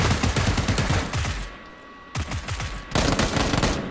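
Gunfire from the battle royale video game PUBG: a rapid burst of loud shots, a brief pause, then more bursts of repeated cracks.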